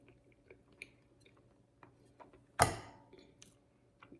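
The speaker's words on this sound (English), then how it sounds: "Let's give our pie a try. This is chocolate peanut butter cup pie." Chocolate peanut butter cup pie is eaten up close: soft wet chewing and small mouth sounds, then one sharper bite into the crust, followed by more quiet chewing.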